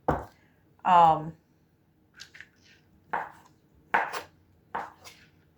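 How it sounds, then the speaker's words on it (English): A knife cuts leftover roast into smaller portions, giving several short, sharp chops spaced a second or so apart, close and moderately loud, with a few spoken words at the start. "I'm going to cut up some of the roast in smaller portions"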